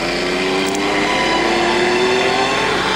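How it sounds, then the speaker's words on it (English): A rally car stuck in desert sand during the Dakar rally holds high revs in a loud, continuous engine whine with spinning wheels, the pitch rising slightly as it strains. "spinning the wheels, keeping the revs high"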